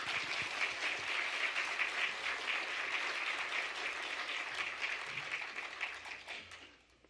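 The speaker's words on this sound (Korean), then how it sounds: "큰 박수로 환영하도록 하겠습니다." A church congregation claps warmly to welcome the pastor before a Sunday sermon, a steady wash of many hands lasting several seconds, then tapering off into quiet.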